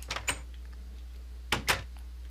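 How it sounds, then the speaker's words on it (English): Two paired bursts from a Minecraft door or chest opening, one pair at the start and another about a second and a half later, each a quick double clack over a steady low hum. "they just changed the uh, chest and door sound."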